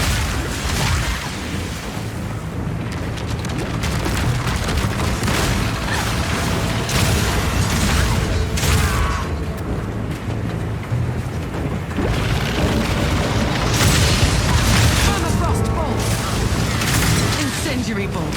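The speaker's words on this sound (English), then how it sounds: "Incendiary bolts. Armor-piercing bolts. Permafrost bolts." Crossbow bolts fire and burst in Path of Exile 2 combat, including incendiary, armor-piercing and permafrost bolts. The booms and pops come loud and thick, one after another, over a dense, continuous wash of game sound.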